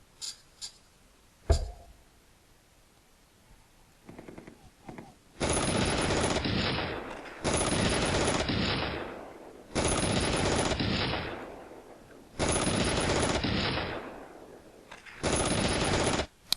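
Bursts of automatic gunfire in the WWII tank game Panzer Command: Ostfront, five loud sustained volleys of about two seconds each separated by short pauses, preceded by a few scattered single shots and a sharp bang.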